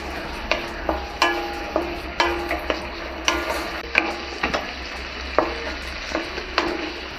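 Green turkey berries (sundakkai) sauté in a pan for a tamarind kuzhambu, with a steady sizzle and repeated sharp scrapes and knocks of a spoon stirring at an even rhythm, close and alone.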